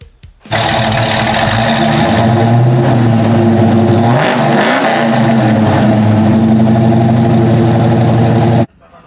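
An Oldsmobile Cutlass V8 making 450 horsepower, with a 780 Holley carb, Edelbrock intake, aluminum heads, 11-to-1 flat-top pistons and long-tube headers, runs loud and steady close by, with a rev swell midway before it cuts off.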